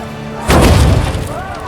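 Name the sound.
ballista firing in The Witcher 2 video game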